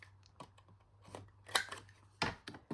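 A corner rounder punch working the four corners of a 12x12 sheet of paper, producing several soft, separate crunchy clicks and snips at irregular intervals, close and quiet.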